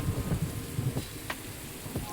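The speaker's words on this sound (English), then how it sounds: "You got the slight rain sounds." Light rain in a VR fishing game while out on a boat, a soft, steady patter with scattered droplet ticks and a low rumbling background, heard alone at a moderate level.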